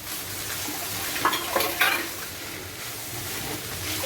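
A spoon stirs filling for Kerala-style chatti pathiri in a pan over a low sizzle. Soft scraping and a few metallic clinks rise briefly in the middle.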